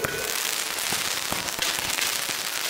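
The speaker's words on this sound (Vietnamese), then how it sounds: "Những màn pháo hoa thật đẹp." Fireworks display at a Lunar New Year 2024 celebration in Vinh Yen, with dense crackling and hissing bursts and sharp pops scattered throughout, loud and continuous, with faint crowd noise underneath.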